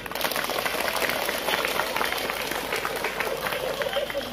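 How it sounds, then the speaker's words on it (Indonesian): A crowd at an Isra Mi'raj religious gathering claps hands together, producing a dense, continuous patter that stays loud and even throughout. "Tepuk tangan semuanya."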